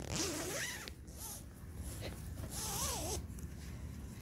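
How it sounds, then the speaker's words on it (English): A zipper on a 100% bamboo cooling-fabric duvet cover is pulled closed in a few quick rasping runs, close and fairly loud, with short pauses between pulls. "All you have to do is just zip it."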